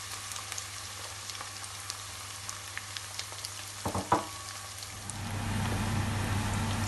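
Onions frying in oil for kofta: a soft steady sizzle with a few spoon clinks and stirring knocks, then a louder, fuller hiss of frying swells near the end.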